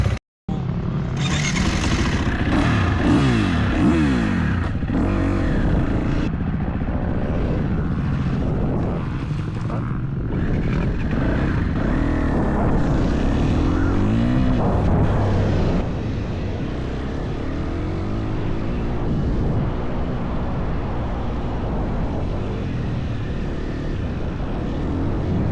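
A Stark or KTM SXF 350 dirt bike engine warming up, idling with a buzzing drone and rising, falling revs in repeated throttle blips, steady and fairly close before easing to a lower steady idle.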